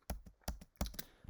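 Keyboard keys tapped in a quick run of four or five distinct clicks, close and crisp with short gaps, entering a Shift X shortcut in Figma.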